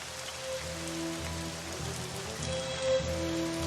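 Steady rain pattering on surfaces in the Strategic Mind: Blitzkrieg war strategy game, a dense continuous hiss of raindrops at moderate level with faint tonal game ambience underneath and no talking.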